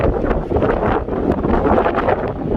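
Wind gusts across an exposed hillside camp, buffeting the microphone with a loud, continuous roaring rush that swells and dips irregularly.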